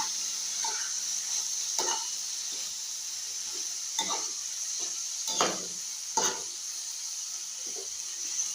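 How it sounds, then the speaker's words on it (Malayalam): Broad beans frying in a pan for a thoran, a steady sizzle running throughout with soft scraping stirs breaking through at intervals, close and moderately quiet, no talking. "കഴിഞ്ഞിട്ട് ചെറുതായിട്ട് ഇളക്കി കൊടുക്കണം."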